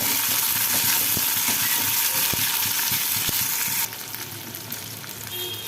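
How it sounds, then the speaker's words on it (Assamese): Onion and tomato frying in a pan for a soybean curry, a dense close sizzle with spatula stirring taps, loud and continuous before dropping somewhat quieter near the end, with no talk. "পিঁয়াজখিনি অলপ ফ্ৰাই কৰি লৈ মই ইয়াত বিলাহীখিনি দি দিছোঁ।"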